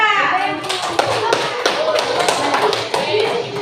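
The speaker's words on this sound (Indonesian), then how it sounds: "Jadi tepuk tangan untuk kelompok 4." A classroom group of students claps for a presenting group of classmates, producing a loud, close, rapid patter of hand claps mixed with thumps. Children's voices can be heard among the claps.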